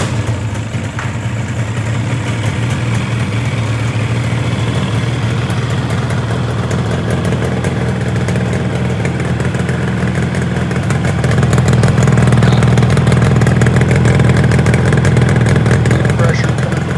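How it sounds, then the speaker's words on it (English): A Yamaha RD350 motorcycle engine runs indoors on an auxiliary gas tank, a loud steady two-stroke drone throughout, swelling slightly in the later seconds, with a voice talking over it. "So now I've got it running inside. I've still got my auxiliary gas tank up."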